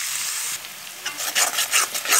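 Onions frying in hot oil with a bay leaf for a restaurant-style bhaji, with crackling sizzle bursts that swell and fade over a fainter hiss, close with no voices.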